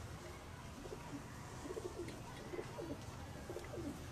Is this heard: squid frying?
no